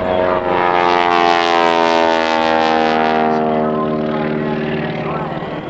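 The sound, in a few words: airplane engine during air show wing walking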